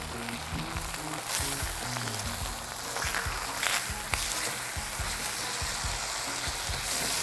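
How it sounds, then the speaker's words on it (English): Pieces of veal sizzling as they fry in a pan, a steady hissing crackle close by with occasional clinks and handling noises, no voices heard. "We're gonna flip these next couple pieces of veal."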